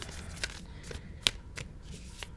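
Close, soft riffling and flicking of cards being shuffled, in several quick bursts with short pauses between them.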